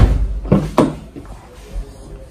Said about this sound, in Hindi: पीछे वाला दरवाजा आप लोग देखेंगे खोल के तो कुछ इस तरीके का आप लोगों को मिलेगा।